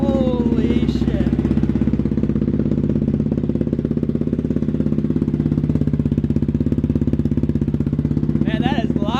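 A Yamaha Raptor 700 ATV fitted with a full DASA exhaust system idles loudly and close by, its steady rumbling pulse holding throughout with brief voices appearing near the end.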